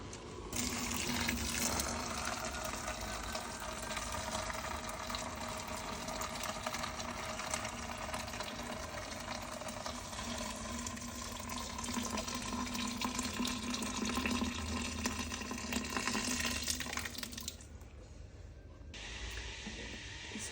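A steady stream of boiling water, about 3.5 litres, pours continuously for about eighteen seconds with a bright, hissing splash, then quiets abruptly near the end.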